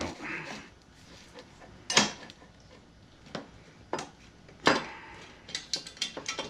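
A wrench turns old plumbing fittings in the back yard of a 100-year-old house. Sparse metallic clicks, ratcheting ticks and creaks come in short bursts, closer together toward the end, over a quiet background.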